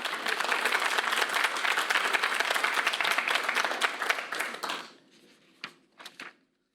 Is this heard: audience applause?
yes